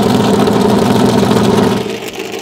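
Tony Stewart's NASCAR race car engine running in the garage, a loud, close, rough idle with a deep throbbing rumble that holds steady, then eases slightly toward the end, no voices over it.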